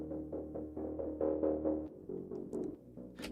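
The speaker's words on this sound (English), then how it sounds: "we have this really cool steady and ready kind of rhythmic effect that I found in photosynthesis" A steady, rhythmic pulsing texture from the Photosynthesis sample library, with throbbing mid-range tones repeating in an even, organic-feeling pattern and a few brighter high accents near the end, heard alone.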